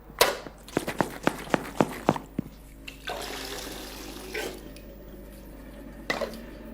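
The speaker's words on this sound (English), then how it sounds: "Just rinse it with a little water." Clean water splashes and drips while a leather wine boot is rinsed, a run of sharp separate drips and splats at first, then a broader hissing rush of water, close and fairly quiet.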